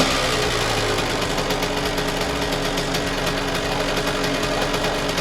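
A Yamaha YZ 125 two-stroke dirt bike engine running steadily, a loud, continuous buzzing drone, close.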